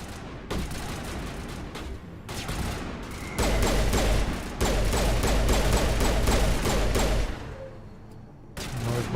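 Rapid bursts of gunfire from Mass Effect Legendary Edition, dense volleys of shots with heavy low booms, loud and sustained over several seconds with brief lulls in between.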